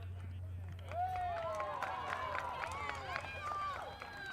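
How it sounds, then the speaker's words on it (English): Spectators at a U14 girls soccer final of the Ontario Cup, Niagara United versus London Alliance, shouting and calling out in overlapping voices, a lively, sustained crowd roar with a steady low hum underneath. "Despite what you're hearing in the crowd noise, it's a fantastic tackle."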